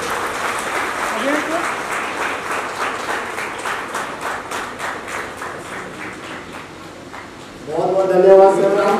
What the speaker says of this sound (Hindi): कृपया तालियों में कोई कंजूसी न रखें।